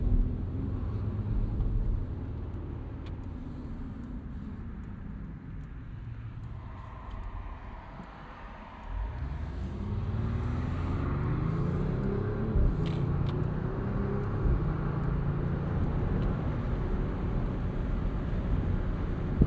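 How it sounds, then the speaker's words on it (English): A 2025 Mercedes-AMG CLE 53 Cabriolet's 3-liter turbo inline-6 runs quiet and reserved on an evening drive, a low steady rumble with road and wind noise that dips midway and then rises into a smooth pull. "this 3-liter Inline-6 is very quiet and reserved"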